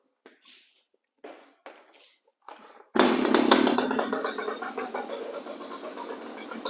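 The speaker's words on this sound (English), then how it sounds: "we're going to prime it, we're going to choke it, and we're going to pull the rope" Several short pull-cord rasps, then the small two-stroke engine of an FS 561 clearing saw catches and roars loudly, settling into a steady buzzing idle close by.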